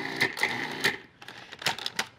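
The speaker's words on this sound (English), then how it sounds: "Pulse the dry ingredients together." A food processor pulsing dry cracker ingredients with thyme leaves and sugar, heard as several short, sharp whirring bursts at moderate volume, close and rhythmic, with quiet gaps between them.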